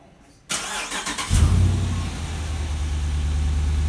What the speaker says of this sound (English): So we just lock it and crank it up, and it fires right up.